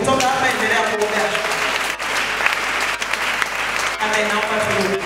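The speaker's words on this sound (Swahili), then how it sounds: "Mpe Bwana Yesu makofi." A church congregation at a Lutheran (KKKT) parish service in Mbagala claps in sustained, dense applause that fills the whole span, loud and steady with brief dips.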